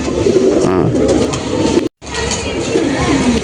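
Pair of pigeons, a male and a female of the common Madras breed, cooing steadily and close by, with layered soft coos filling the scene and a brief dropout midway.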